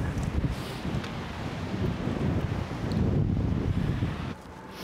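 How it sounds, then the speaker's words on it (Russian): Strong wind gusts across an open beach with a black flag warning against swimming, a steady broadband roar and microphone buffeting throughout, with surf faintly mixed underneath. "Красиво, но ветрено."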